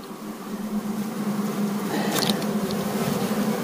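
Honey bees at an apiary hum in a steady, close drone while hive frames are handled during preparation for winter, with a brief scraping rustle midway.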